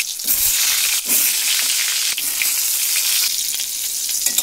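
Eggplant pieces frying in hot oil, a loud continuous crackling sizzle with a few brief dips, no voices.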